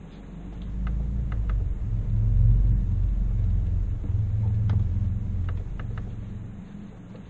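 A small HO slot car motor runs on a break-in block, giving a continuous low rumbling whir that swells and eases slightly, with a few faint ticks and clicks over it.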